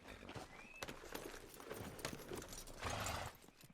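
A horse's hooves clop at a walking pace in Red Dead Redemption 2, quiet and fairly close, with soft rustling and faint jingling of tack between steps.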